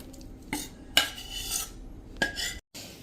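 Utensil scraping and clinking in a pan while powder is stirred into melted jaggery and ghee, with a few sharper metallic knocks and a brief silent gap near the end.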